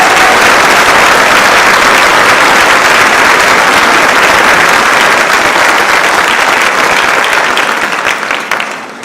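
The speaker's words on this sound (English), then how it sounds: "let's give them a round of applause" Loud, continuous applause from a large crowd at a high school class night fills the space, steady for several seconds before thinning out and fading at the end.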